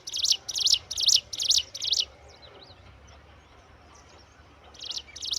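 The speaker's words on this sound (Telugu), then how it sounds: "చూడండి ఎంత బాగా అరుస్తూ ఉందో." A tiny bird sings nearby in five bright, rhythmic chirping bursts. After a brief quiet pause, more calls start up again.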